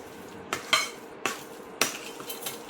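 A spoon scrapes and clinks against a metal pan while stirring a rava and coconut laddu mixture, several sharp knocks spaced irregularly, close and fairly quiet.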